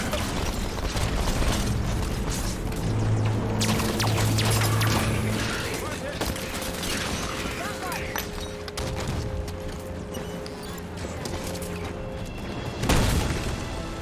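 A scattershot weapon fires repeatedly in Halo Infinite amid a dense battle mix of mechanical clatter, bursts and crashes, with voices talking over the action.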